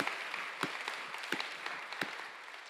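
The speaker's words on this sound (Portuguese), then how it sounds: "é mesmo aplauso" Applause from a church audience during a sermon: scattered, fairly faint hand claps rippling at an uneven rhythm for a few seconds, with no talking over them.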